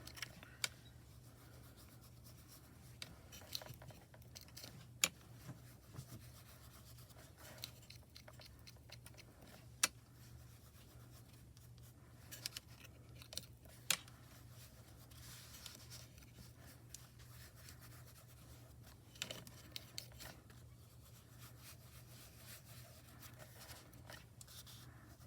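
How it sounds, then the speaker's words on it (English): An embossing folder has ink lightly rubbed across its raised tops, giving soft, faint scratchy strokes with small ticks and taps scattered throughout, close up and alone. "I'm just lightly rubbing the tops of that embossing folder"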